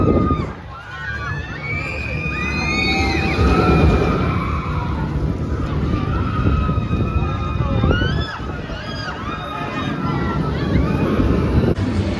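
Ride in the back row of the Flash roller coaster at Six Flags Great Adventure: roaring wind and track rumble run throughout, overlaid with rising and falling screams from riders, loud and close.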